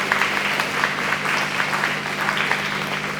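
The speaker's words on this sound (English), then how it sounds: "Give them another round of applause," Audience at a county fair queen pageant applauds the seven contestants, a steady dense clapping that fills the whole moment at full strength without a break.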